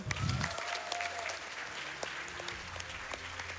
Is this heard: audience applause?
yes